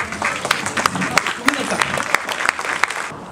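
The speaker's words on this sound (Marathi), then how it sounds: "आपण उभं राहून जोरात टाळ्या वाजवल्या" A standing audience at a Mumbai event applauds loudly, dense overlapping claps in a continuous burst that cuts off at the end.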